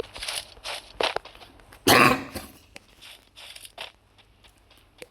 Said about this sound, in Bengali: ভাই প্রচন্ড কাশি হচ্ছে